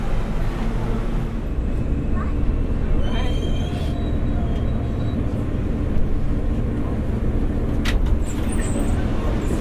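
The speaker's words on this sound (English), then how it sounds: "This is a World Trade Center bound speed train." New York City subway train running toward World Trade Center, a loud continuous rumble of wheels and motors with brief metallic squeals and clanks.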